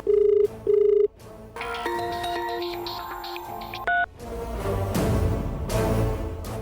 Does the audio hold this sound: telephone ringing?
yes